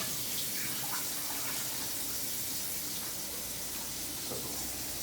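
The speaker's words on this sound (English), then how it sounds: "I like to drain the water off our butter bean" Steady running water pours and splashes as butter beans are drained and rinsed off for a Jamaican oxtail pot roast, a continuous close gush like a tap into a sink, with no voices.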